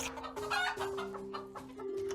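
Chickens clucking in The Castles of Burgundy digital board game, a short run of cartoonish game-sound clucks over a steady tonal hum, alone with no talk.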